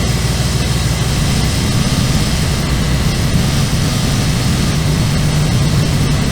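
Car engine idling steadily after a cylinder misfire repair with new spark plugs and coil packs, a continuous low droning hum with no talk over it.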